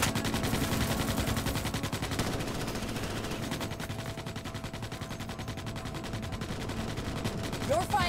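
Sustained automatic gunfire in Starship Troopers Extermination, Bastion heavy infantry in combat, a dense continuous rattle of rapid shots from start to finish, loud and steady, with layered game effects under it.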